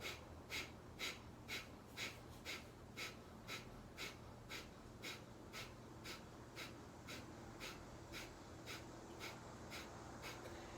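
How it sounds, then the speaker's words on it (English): Bhastrika yoga breathing, forceful rhythmic breaths pumping in a steady fast cycle of about two per second, close and clear, with no talking throughout. "since it's an emphasis on the exhale, I like to take a deep inhale and begin"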